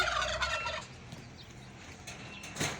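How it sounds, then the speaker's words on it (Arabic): A turkey on a farm gobbles in a loud burst at the start, followed by quieter background farmyard sounds and a brief later call. "في ديك رومي اهو"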